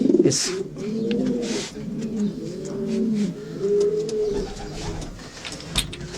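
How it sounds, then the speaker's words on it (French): Pigeons in a racing pigeon loft, the breeding stock, cooing in low, rolling, repeated calls that overlap continuously at close range, with a few soft wing flutters and small knocks among them. "C'est les pigeons, les grands reproducteurs qui ont donné les jeunes."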